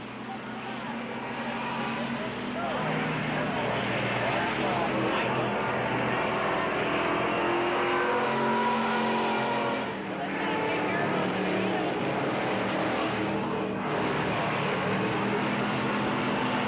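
Race cars circling a short oval at Riverside Speedway make a steady, distant roar of several engines that rises and falls as the cars pass. A race announcer talks over it.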